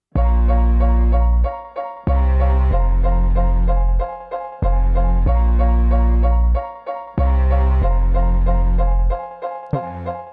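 A deep, sustained bass line from a song plays steady repeated notes in a rhythmic pattern, with short gaps between phrases, underneath a fuller instrumental mix.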